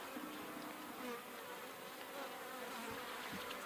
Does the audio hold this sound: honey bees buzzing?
yes